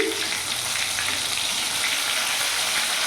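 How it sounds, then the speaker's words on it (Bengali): Fish pakora made with Bombay duck sizzles in hot oil, a dense, steady frying hiss filling the whole short stretch at close range, with no voices over it. "দেখতে পাচ্ছেন লাল লাল করে ভেজে নিয়েছি"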